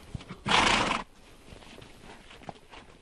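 A horse neighs once, loud and close, during a cattle muster on an isolated New Zealand farm, followed by quiet rustling and faint hoof or step sounds.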